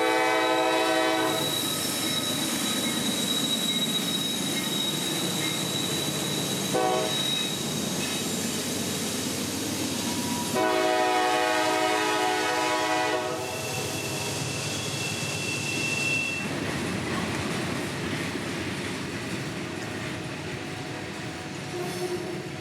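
A heavy freight train led by two GE wide-cab diesel locomotives, over 8,000 horsepower combined, climbs a grade, engines deep and labouring, with steady wheel noise and long horn blasts sounding in sections.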